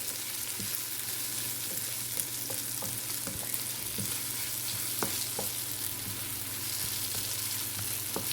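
Tomato with a pinch of salt sautéing in a pan for squid thokku: a steady, close sizzle runs throughout, broken by light scraping and tapping as it is stirred.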